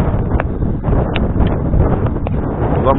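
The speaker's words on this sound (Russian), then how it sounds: "и с него ветер дует, ветерок" Wind gusts over a microphone beside the Amur river, a loud, continuous low buffeting rumble with brief rustling flutters, no voices.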